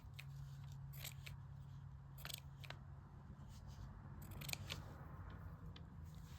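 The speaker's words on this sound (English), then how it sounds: "Just gonna cut little strips." Scissors cutting little paper strips: a quick series of crisp, close snips comes in clusters over a steady low hum, with no voices.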